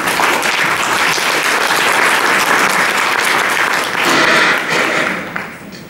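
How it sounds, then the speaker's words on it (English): A lecture audience applauds loudly and steadily for several seconds, then the clapping thins out and fades near the end. "thank you for the applause"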